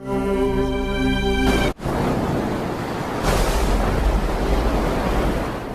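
Waves breaking on a beach, a broad rushing wash that swells and recedes with wind noise over it, following a tonal passage cut off abruptly.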